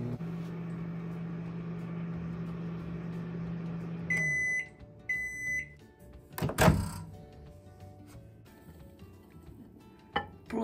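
A microwave oven hums steadily while boiling an egg, then stops with a series of beeps, followed by the door clunking open and faint handling clatter nearby.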